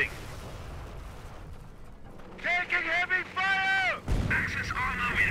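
Battle sounds from Company of Heroes, set during a city siege at the Falaise pocket, with booms and gunfire around shouted voice lines and a sharp blast partway through.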